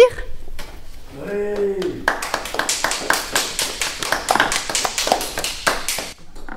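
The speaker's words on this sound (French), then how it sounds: "Vous voulez bien les applaudir ?" An audience at a nursing home gathering claps in a quick, steady rhythm of sharp hand strikes, starting after a short spoken word and a brief tonal voice sound and continuing to the end.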